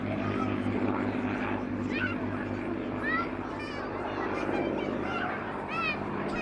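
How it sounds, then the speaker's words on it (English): A P-51 Mustang and a Spitfire fly past at an airshow, and their piston-engine propeller drone sounds as a continuous hum under a commentator talking over a public address. "There they go once more, the two beauties, the Mustang and the Spitfire."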